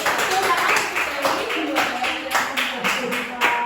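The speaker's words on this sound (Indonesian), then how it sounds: "Tepuk tangan enggak?" A classroom group claps in applause, a dense and fairly loud burst of many hands with rhythmic surges, with voices underneath.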